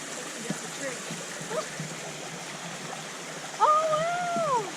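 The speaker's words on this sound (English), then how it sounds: "Oh, big waterfall at the back there." A big waterfall at the back of a bush walk at Echo Point, heard as a steady broadband rush of falling water. A voice and a brief whistle-like tone rise over it near the end.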